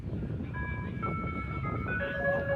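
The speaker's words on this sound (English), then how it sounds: "Ice cream truck passing us here." An ice cream truck drives past during an outdoor baseball game, its chiming tune ringing out steadily and fairly faint over a continuous low rumble of traffic and ambience.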